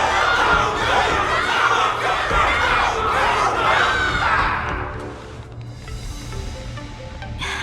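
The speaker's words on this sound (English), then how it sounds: "Everyone's cheering for you" Loud crowd cheering and shouting for Luca after a battle in an animated series: a dense, sustained roar of many voices that eases toward the end into softer murmuring.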